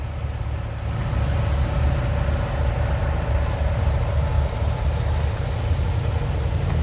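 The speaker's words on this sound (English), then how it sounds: "It's a 1941 Farmall Model B" A 1941 Farmall Model B antique tractor rolls past in an outdoor parade, its engine a steady low rumble and idle that holds loud and even throughout, with no talk over it.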